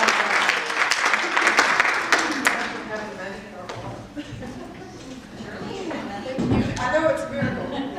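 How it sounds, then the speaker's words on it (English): A realty team meeting audience claps loudly for a couple of seconds, then the applause thins out as people chatter and shuffle about the room. "Give these people a round of applause"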